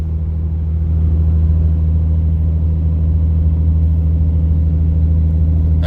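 A tractor engine drones steadily at just over 1500 RPM while driving, a loud, even low-pitched rumble with a constant hum and no change in pitch.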